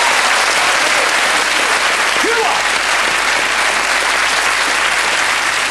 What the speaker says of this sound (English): Give them a round of applause as they make their way to the arena.